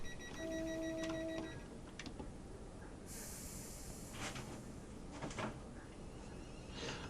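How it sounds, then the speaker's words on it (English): Train doors close on a passenger train in a Coventry-area West Coast Main Line railway simulator, with warning beeps, then a sharp hiss and a thud of the doors shutting over a quiet hum. "Doors close."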